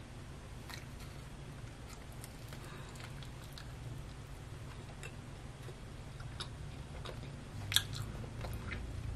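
Faint close-up bites and chewing of a bagel spread with onion and chive cream cheese, soft moist crunches and mouth sounds coming at irregular intervals against a quiet background hiss.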